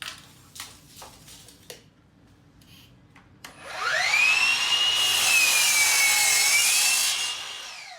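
A saw cuts through a wooden casing board for a large Craftsman-style kitchen surround, starting after a few scattered knocks and then whining loud and steady for about four seconds before dying away.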